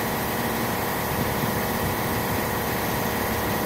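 Honda TRX250 ATV engine idling low after a carburetor adjustment, a steady, even rumble that holds constant throughout with no talking.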